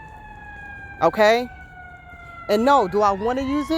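An ambulance siren wails past, its steady tones sliding downward while someone talks loudly over it at close range.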